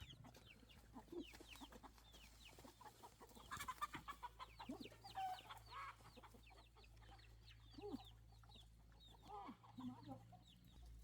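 Capon chickens cluck steadily in a yard while being chased for catching, a busy, layered chorus of clucks with small birds chirping around them and a low steady hum underneath.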